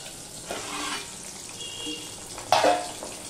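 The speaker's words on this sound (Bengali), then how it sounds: "পাবদা মাছ না হালকা করেই ভাজে, বেশি কড়া করে ভাজে না। এবার অপর পিঠটাও আমি ভেজে নেব।" Pabda fish frying lightly in hot oil in a pan, a soft steady sizzle with a few brief louder spatters and stirring scrapes, close by and without speech.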